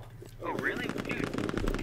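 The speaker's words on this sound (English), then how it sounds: "Who's shooting?" Gunfire in the tactical shooter Squad, with BTR armored vehicles on the Yehorivka map, rattling in rapid bursts through most of the stretch under a voice speaking over it.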